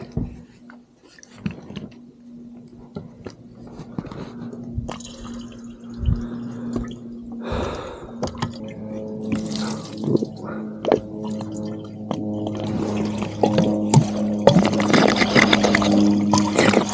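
Regular tap water runs and drips through the radiator of a Caterpillar D2 5J crawler tractor, an uneven trickling and splashing that grows busier and louder toward the end, heard close with no talk.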